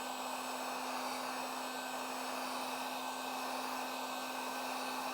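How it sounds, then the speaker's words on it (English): Steady continuous whir of a heat gun or hair dryer blowing as it warms paint protection film on a car, with a constant hum and airy hiss throughout and no voices. "Heat gun hair dryer, turn it on, and just go back and forth."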